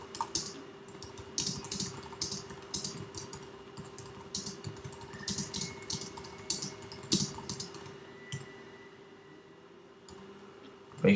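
Quick, uneven keystrokes clatter on a Mac computer keyboard while a tweet is typed, with short bursts and brief pauses, close and fairly quiet, ending in a sharper final tap.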